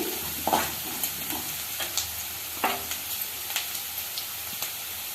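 Onions frying in oil in a home kitchen pan, a steady soft sizzle with a spoon stirring and scraping in short, repeated strokes at close range.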